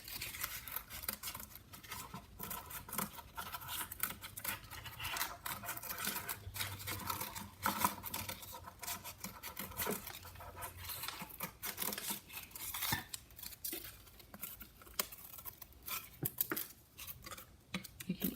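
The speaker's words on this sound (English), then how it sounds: "And just trim the edges like so." Scissors snip steadily around the edges of a Christmas letterboard ornament, giving quiet, close, rapid cuts and faint rustling that run on without a pause and without talk.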